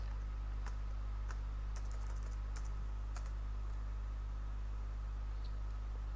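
Typing on a computer keyboard while entering a command for a Haskell QR code project: scattered close key clicks in short bursts over a steady low electrical hum, with no talking.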